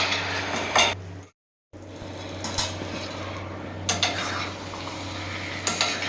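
A spoon scraping and clinking against a cooking pan while stirring brinjal gravy, with irregular metallic knocks spaced a second or two apart over a low steady hum, no talking.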